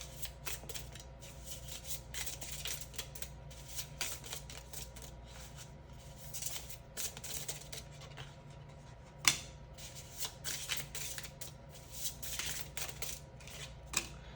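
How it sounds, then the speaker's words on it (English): A deck of cards is shuffled in quick, papery bursts of riffling and sliding, repeated irregularly at a fairly soft level close by, with no talking. "There were a few others I need to reshuffle into the deck."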